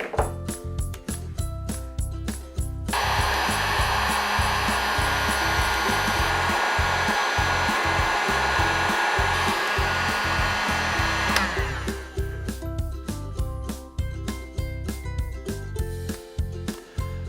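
A heat gun blows steadily for about nine seconds, heating an insulated butt connector on an electric floor heating cable end cap, with a loud continuous whoosh that starts abruptly and cuts off, framed by faint handling clicks before and after.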